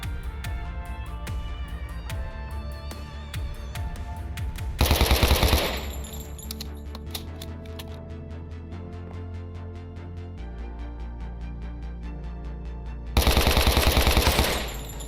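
Rapid automatic gunfire from a secondary weapon in a Minecraft game, with sustained bursts of shots and louder blasts around five and thirteen seconds.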